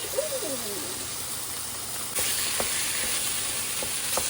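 Ground beef dropped into a hot pan with partially cooked ingredients, a steady bright sizzle that swells louder partway through, with a few light clacks of a utensil stirring.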